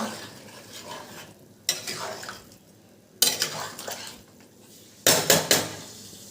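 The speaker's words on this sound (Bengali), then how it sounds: "একটু নেড়ে নিয়ে ঢাকা দিয়ে দেবো।" Mutton curry is stirred in a pot with a metal spoon, sending out three bursts of scraping and clanking against the pot over a low simmer, with the lid clattering on at the end.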